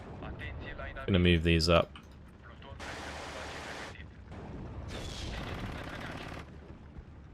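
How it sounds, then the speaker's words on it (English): Mortar fire in the wargame Steel Division 2 comes as several separate bursts of harsh, crackling explosive noise, each lasting about a second, spaced apart at moderate loudness. Someone speaks briefly between them. "This mortar fire is a bit annoying."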